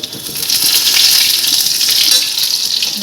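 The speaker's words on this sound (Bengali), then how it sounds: "সেই নাগেশটা ভাজা হচ্ছে এখন" Loud, close sizzling of veg nuggets frying in hot oil, a steady crackling hiss with no voices.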